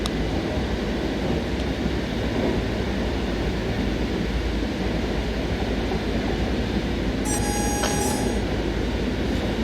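German class 612 diesel train on the Bremen to Oldenburg line in Train Sim World 4, a steady loud rumble of engine and wheels on rails with a brief high squeal of wheels near the end.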